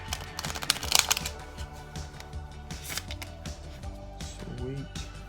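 Playing cards are shuffled by hand before a tabletop card game, a quick series of riffling, snapping bursts with light clicking, heard close up over a steady background.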